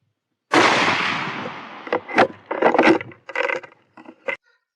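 A single loud, close rifle shot cracks out on a range, fired through a Hikmicro Thunder 3.0 clip-on scope. The report rings and decays, followed by scattered clicks and clatter.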